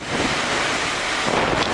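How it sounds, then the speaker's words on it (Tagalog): Typhoon wind buffets the microphone in a dense, continuous roar with a rushing wash of heavy rain throughout, loud and unbroken, in Batanes. "Sa lakas ng hangin at ulan, halos walang makita sa paligid."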